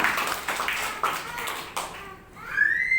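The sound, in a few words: audience clapping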